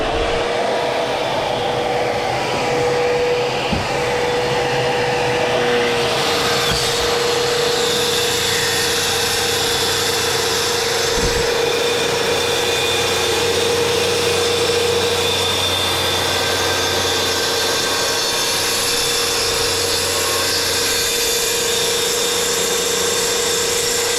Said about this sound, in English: Using the track saw, taking 0 off here, 3/16 off here